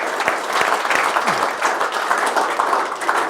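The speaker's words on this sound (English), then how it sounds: "give yourselves a round of applause" Applause from attendees at a town hall meeting on drought, a loud, dense round of clapping from a crowd, continuous and close throughout the short stretch.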